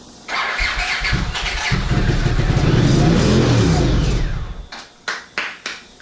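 A 1982 Honda CX500 Turbo motorcycle that has sat for 25 years, starter cranking into a loud, close engine start that revs and settles, then cuts off with a few short stutters.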